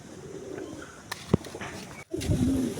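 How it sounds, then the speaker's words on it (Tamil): A red tumbler pigeon coos softly in short low bursts against steady background noise, with a sharp click midway and a fuller, louder cooing swell near the end. "இது நம்ம சிவப்பு சூப்பரான புறா."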